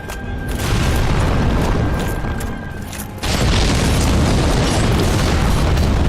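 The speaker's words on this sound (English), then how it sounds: "Where's these explosions coming from?" Loud rumbling blasts from a giant in Dark Souls Remastered fill the clip as continuous booming noise, with a sharp burst surging in midway through, heavy and close.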